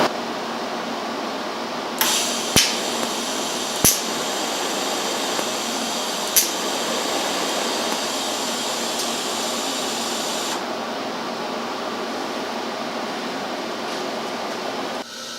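TIG welding tacks on a dirty VW Bus rear quarter panel that keeps blowing holes, a steady close hiss of the arc broken by several sharp clicks and pops, then the hiss drops away.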